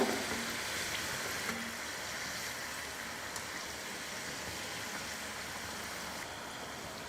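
Somas pastries deep-frying in hot oil for a Diwali sweet, one side done and being turned, heard as a steady, even bubbling hiss throughout, moderately quiet and close, with no voices.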